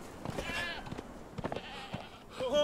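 A goat bleats in the survival game Conan Exiles, quiet, wavering calls over low game ambience with soft footstep-like thumps.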